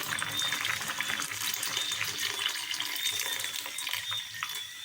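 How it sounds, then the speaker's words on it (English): Hot water pours steadily into a pot of Trinidadian corn soup with daal, a continuous splashing trickle heard close up and alone. "So I'm going to add some more water."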